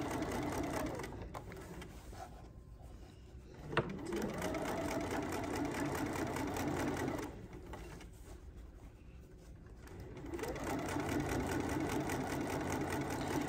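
A sewing machine stitches in bursts, a quick mechanical whirring and clatter that runs for a few seconds, pauses, then starts up again, fairly quiet and close, with no talking.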